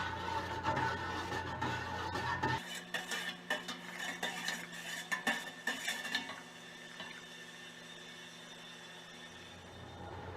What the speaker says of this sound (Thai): คนในน้ำตาลทรายละลายนิดนึงค่ะ